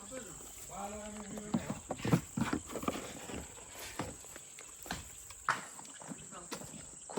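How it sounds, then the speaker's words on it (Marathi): A horse walks at a stable, its hooves clip-clopping in irregular, close thuds while people talk nearby and insects chirp faintly in the background. "खूपच पळवला राजने हा घोडा आज"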